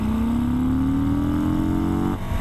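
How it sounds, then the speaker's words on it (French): A 2018 Harley-Davidson Breakout engine revs hard in second gear, a loud, close, steady roar rising in pitch for about two seconds before the electronic cut-off abruptly drops it, with no talking. "chez Harley, apparemment, il n'y a pas de rupteur. Le moteur coupe."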